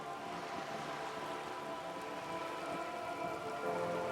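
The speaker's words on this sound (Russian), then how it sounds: "Дождь просто ледяной." Steady rain falls on a surface in a continuous, even hiss of drops, with no voices or other sounds.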